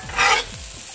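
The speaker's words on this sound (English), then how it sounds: "So now I add the pre-fried beef mince and give it a stir." Pre-fried beef mince being stirred in a hot pan while cooking Maggi murtabak, a short scraping stir over a soft sizzle, close and clear.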